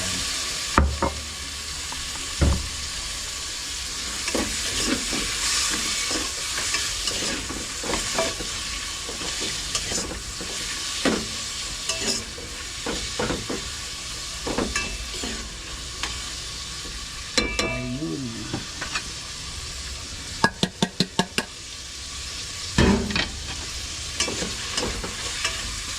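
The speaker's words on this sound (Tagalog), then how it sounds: "Tapos ilagay natin yung karne, igisa muna natin." Meat sautés in a hot pan with continuous sizzling, broken by frequent scraping and clattering stir strokes. Near the end comes a quick burst of sharp taps against the pan. No one speaks.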